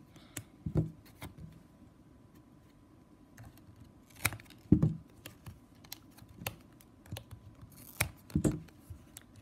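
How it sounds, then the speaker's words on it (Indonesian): Scissors snip through plastic strapping band while weaving a small square basket: a series of sharp, close clicks and cuts at irregular intervals over quiet handling noise. "yang sebelah sini juga sama kita gunting sini"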